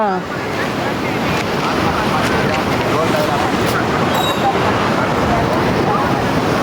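Seawater surges in as a continuous loud wash of waves, a dense roaring rush that never lets up, with voices faintly beneath it.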